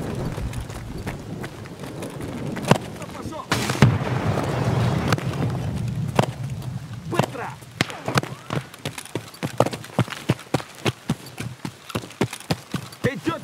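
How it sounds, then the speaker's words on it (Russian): Grenade blast followed by rapid gunfire in Escape from Tarkov on the Lighthouse map, with a burst of explosion noise, then sharp repeated shots cracking in quick succession while excited voices shout over the action. "Граната тут!"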